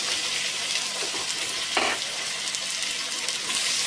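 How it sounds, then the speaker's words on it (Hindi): Chopped tomatoes hiss and sizzle in a hot pan of Indian-style egg curry, a dense, steady frying crackle with faint stirring scrapes close by and no voices. "अब हम इसमें कटे हुए टमाटर जो हम लोगों ने लिए थे उसे डाल देंगे।"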